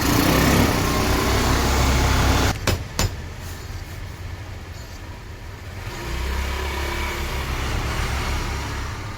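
Suzuki Access BS4 scooter engine running steadily after piston work, with a brief stutter of clicks partway through and a lower, even idle afterward, fairly close and alone.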